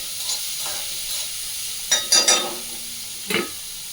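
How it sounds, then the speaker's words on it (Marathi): Vegetables and onion with chillies sizzle in a pan, under a soft steady frying hiss broken by a few sharp scraping stirs of a spatula. "मी परतवते आणि लगेचच ती भाजी घालून घेते"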